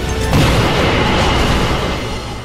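A loud, sustained burst of booming blasts from a boss's evil shockwave weapons in Ratchet and Clank: Up Your Arsenal, a thick rumbling roar that swells sharply and rolls on for the whole stretch.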